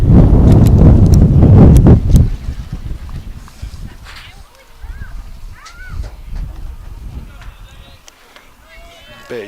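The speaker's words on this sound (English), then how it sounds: "Big gust of wind just blowing by here." A strong gust of wind rushes across an outdoor baseball field, a loud buffeting roar on the microphone at first that settles into steady lower wind noise, with announcers talking throughout.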